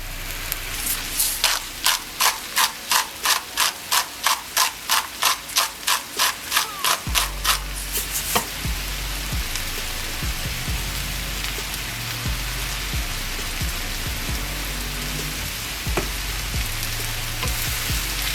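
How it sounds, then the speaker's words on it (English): Mushrooms sizzling in avocado oil with butter in a pan, a steady crackling hiss filling the whole stretch, preceded by a rapid run of rhythmic tapping, no talking. "Over here, I got some avocado oil with some butter. I'm gonna hit my mushrooms in here"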